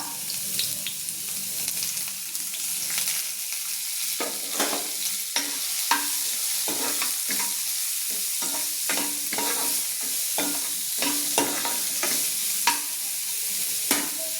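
Carrots and capsicum sautéing in a pan for corn soup, a steady close sizzle broken by repeated rhythmic scrapes and taps of a stirring spoon, with no talking.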